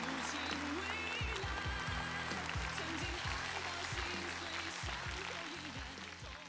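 Audience applause at a televised singing competition show in China, a dense, steady wash of clapping that stays loud throughout and eases slightly toward the end, with low musical tones underneath.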